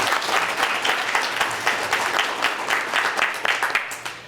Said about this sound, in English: How about one more round of applause for all our students today?